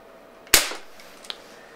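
An air gun pumped ten times fires a pellet with one sharp, close crack that fades quickly, followed by a faint click.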